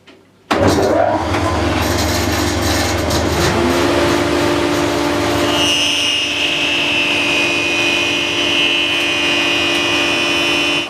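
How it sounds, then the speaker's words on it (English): Jointer planing the face of a resawn board, starting abruptly with a loud, close motor roar and cutter-head whine, then a steady grinding rush of the wood pass that continues to the end. "I've now made one pass on the jointer."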